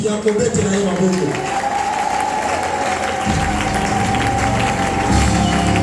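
Congregation in a worship service breaking into applause and clapping, a steady crowd wash under a loud voice speaking over it, with swelling cheers partway through.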